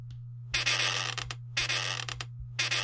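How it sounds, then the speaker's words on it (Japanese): Creaking wooden floorboards in a haunted-house horror video game: three loud, drawn-out creaks roughly a second apart, each a raspy grinding groan, over a low steady hum with no talking. "ここなんできしむんだろ"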